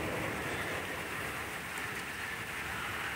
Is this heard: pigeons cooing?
no